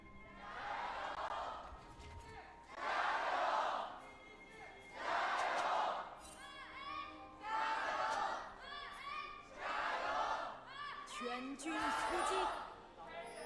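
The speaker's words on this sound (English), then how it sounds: "Gotta love hearing the crowd chants coming through." A large esports arena crowd chants at a League of Legends LPL Spring Split match, with loud, rhythmic waves of roaring voices rising and falling about every two seconds.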